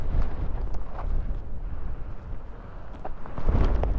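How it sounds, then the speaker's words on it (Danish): Strong storm wind gusts at the North Cape in Norway, buffeting the microphone with loud, rumbling low roars that ease briefly and then surge again near the end. "Og det stormer fuldstændig vanvittigt."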